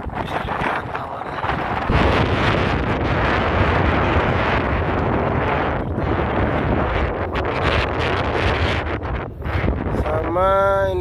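Strong wind at Sorong port buffets the microphone in a continuous loud roar with gusty swells, close and harsh, covering the whole stretch; faint tonal ringing comes near the end.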